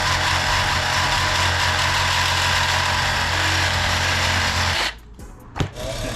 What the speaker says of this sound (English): we're gonna go ahead and just cut some of this off so we have less bolt to make that adjustment